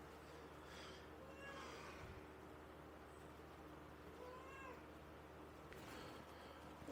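A house cat meows several times indoors, short faint calls spread through a steady background hum, with no talk.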